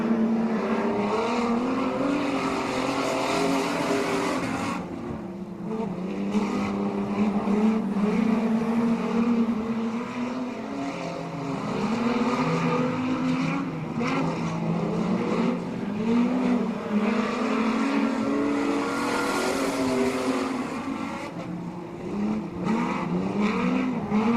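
Street stock race cars roar around a speedway oval in a 50-lap final, engines droning loud and steady with rising and falling passes and tyre scrub, close and continuous throughout.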